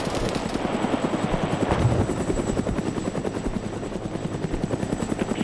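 In the video game ARMA 3, a helicopter flies close overhead with a loud, steady rotor thump and engine whine that holds throughout, during combat.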